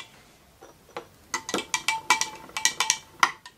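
A spoon stirring a mixture in a bowl for homemade diaper snow, giving a run of quick, close clinks and scrapes that grow busier and louder toward the end.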